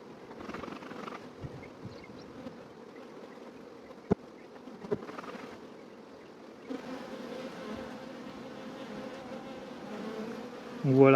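Honey bees buzz in a dense, steady swarm around an opened beehive, the drone close and continuous with a few sharper knocks and a louder burst near the end.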